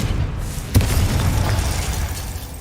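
A Confringo explosive spell from the video game Hogwarts Legacy lands as a sudden loud blast with a sharp attack, followed by a deep rumbling boom that sustains for a couple of seconds.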